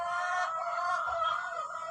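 Chickens at a family home cluck continuously and close by, with overlapping throaty calls forming a steady, busy flock sound and no talking.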